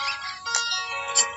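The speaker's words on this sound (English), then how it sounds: "That's my alarm." A short electronic ringtone chimes in bright repeating tones, steady and fairly close, with a couple of louder accented notes.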